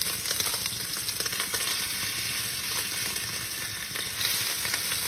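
Short ribs browning in hot vegetable oil in a pot, a loud steady sizzle up close with occasional stirring and shuffling as the meat is tossed, no talking.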